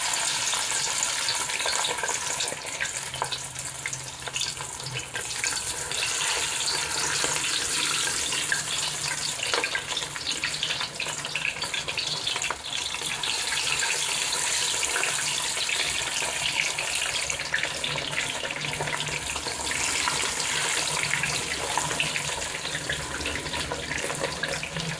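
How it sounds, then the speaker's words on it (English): Spanish mackerel steaks frying in hot oil give a continuous dense sizzle and crackle that holds steady and fairly loud throughout, with no talking. "we are about ready to put them in the hot oil that I have here"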